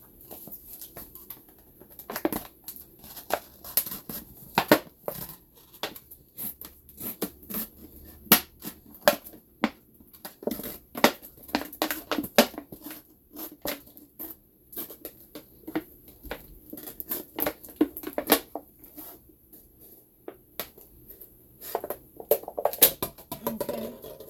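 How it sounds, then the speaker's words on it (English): Plastic soda bottle being cut in half with scissors or a blade, a long run of irregular crackling snips and crunches, close and sharp, with short pauses between bursts. "I'm gonna cut this soda bottle in half."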